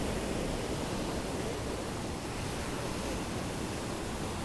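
Ocean waves and wind at Praia Brava beach under a southeast wind, a steady, dense wash of surf and gusting air with no distinct breaks, moderately loud with nobody talking.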